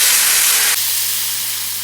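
Boiling water and half a stock cube go into a hot pan of golden fried vermicelli, setting off a loud, close burst of steaming hiss that drops suddenly to a quieter, sustained simmering hiss.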